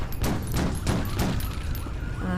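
Shotgun blasts from the Payback 2 video game ring out as a rapid series of loud, booming shots, one after another, over constant game noise with no pauses between them.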